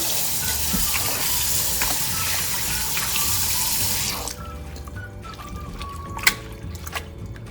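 Tap water runs steadily and loudly into a sink while pork is rinsed, then it shuts off partway through, leaving faint trickles and a small clunk.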